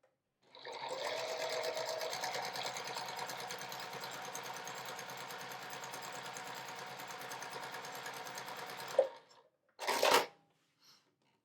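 Sewing machine stitching across quilt fabric in a steady, fast mechanical whir that runs for about eight seconds close up, then stops, followed by a couple of brief handling knocks.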